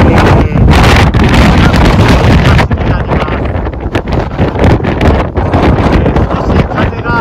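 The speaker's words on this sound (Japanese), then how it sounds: "少し風がやはり強いのが見えます" Strong wind buffets the microphone beside a canal cut across the middle of the Yura Peninsula, a loud, continuous broadband roar with gusty surges throughout.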